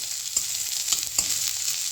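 Ginger paste and dried red chili fry in hot oil, giving a steady close sizzle with scattered sharp crackles and pops and no talking.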